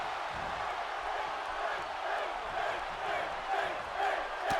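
A cheering arena crowd in the WWE 2K18 wrestling game, fans on their feet in Milwaukee for Finn Balor, forms a steady, dense roar with scattered shouts, continuous and fairly loud throughout.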